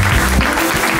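Loud, close applause from an audience at a live French podcast recording, a brief dense burst of clapping.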